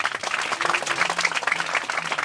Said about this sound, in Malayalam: എല്ലാവരും നല്ലൊരു ക്ലാപ്പ് കൊടുത്തേ